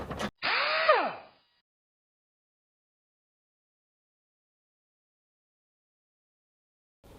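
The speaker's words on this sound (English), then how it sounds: "We'll go ahead and tighten up our 10mm bolts here." A power tool tightens 10mm bolts on the driver's door of a 2004 Nissan Titan: one short whirring burst whose pitch rises and falls within about a second, followed by near silence.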